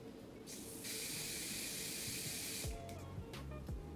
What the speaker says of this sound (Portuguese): Para selar a sobrancelha, eles usam bastante o spray de cabelo